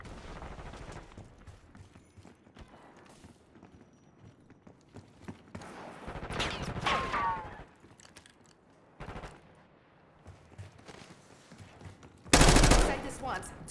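Gunfire breaks out in a Call of Duty Black Ops 6 multiplayer match, heard as scattered shots and a few loud bursts that come in and drop out among game sounds and radio-style voices.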